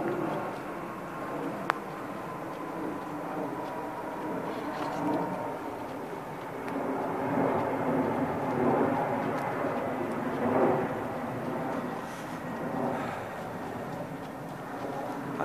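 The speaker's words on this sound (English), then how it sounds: "I do kind of hate that you can't be out here without hearing a jet go overhead every hour" A jet airplane flies overhead near an airport, a broad distant roar that swells and fades gently over a long stretch, with one brief click early on.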